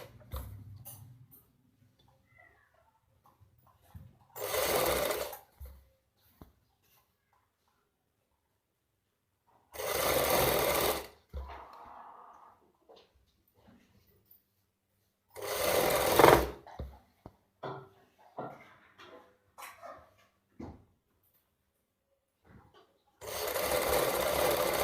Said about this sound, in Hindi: ये हमारी दूसरी बाजू भी इस तरीके से सिलाई लग जाती है।